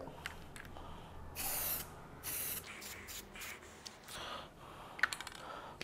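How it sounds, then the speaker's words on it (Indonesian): Aerosol can of red dye penetrant sprayed onto a weld test piece in several hissing bursts of about half a second, separated by short pauses, fairly close and with no voices. "langsung aja kita semprotkan ke uh, test piece-nya atau ke media"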